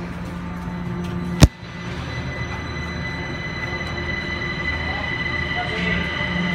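A Kaohsiung MRT Orange Line train departs Formosa Boulevard station toward Sizihwan, with a steady rumble and hum of the moving train, a sharp click near the start and voices talking over it.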